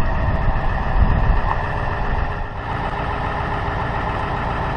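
A pickup truck backing up to an RV hitch, its engine a steady low rumble that swells slightly and then settles, with no talk over it.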